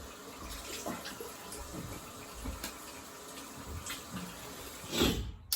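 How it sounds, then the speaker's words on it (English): A shaving brush lathered with Williams mug soap is rinsed under running tap water, a steady close splashing rush with small surges and a louder spatter near the end. "Quick rinse."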